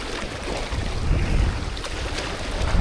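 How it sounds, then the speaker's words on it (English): Strong wind gusting over Lake Rogen in Norway, with choppy waves breaking near a canoe: a constant rushing roar with heavy low buffeting on the microphone, loud and unbroken throughout. "So yeah, wind's picked up a lot."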